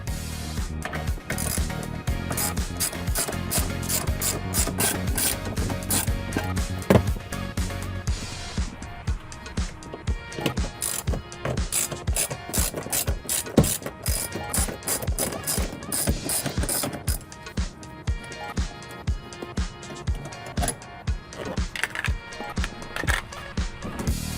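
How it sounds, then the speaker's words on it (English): A 14mm socket wrench ratcheting out seat bolts beneath the rear seats of a Toyota Tacoma, rapid repeated clicking in steady bursts with brief pauses, close and loud throughout. "we're gonna grab a 14mm socket wrench and remove the 2 bolts on the bottom lower portions of both back seats"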